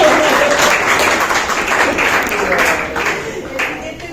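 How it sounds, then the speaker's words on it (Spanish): Classmates applaud after a group presentation in a final imaging class: a lively burst of clapping from a room of students, loud and sustained, mixed with chatter that eases off slightly near the end. "Aplausos para las compañeras."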